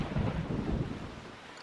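Thunderstorm rumble in The Legend of Zelda: The Wind Waker HD, a low rolling roar with rain hiss, loud at first and easing off over a second and a half, no talk.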